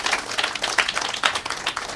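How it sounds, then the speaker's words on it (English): Audience at a Father's Day event at the Montserrat Public Library claps in a round of applause, a dense, steady patter of many hands with a few louder bursts, moderately close. "Could you give him a round of applause, please?"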